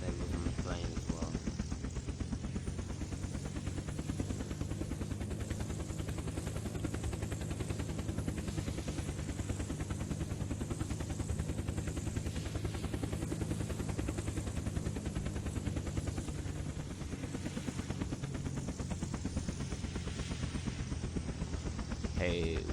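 Helicopter flying in the video game Unturned, a steady loud rotor and engine drone holding without a break, with faint gunfire-like crackle mixed in.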